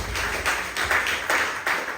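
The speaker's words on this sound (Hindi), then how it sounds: "ताली बजाए प्रभु के लिए।" A church congregation claps in praise during a Hindi sermon, a steady series of loud, sharp claps in an even rhythm, close and with no talking over them.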